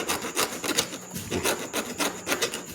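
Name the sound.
small saw cutting wood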